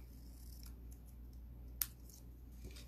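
Metal snips cutting paper in half for a money card holder craft: one crisp snip stands out in an otherwise quiet room, followed by a faint softer click.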